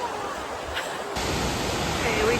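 A waterfall at Silver Falls in Oregon roars as a steady broadband rush, growing louder partway through as it comes closer, with a voice briefly heard under the constant noise.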